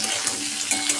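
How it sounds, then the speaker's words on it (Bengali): Onions fry with a pinch of salt in hot oil for mutton curry, giving a brief, steady close sizzle with a few light crackles. "পেঁয়াজটা দেওয়ার পর একটু নুন দিয়ে আমি জাস্ট ভেজে নেব।"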